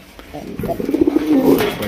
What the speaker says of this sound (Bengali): আপনার কবুতর দেখা যায় প্রত্যেকটা কবুতর ডাকে রে ভাই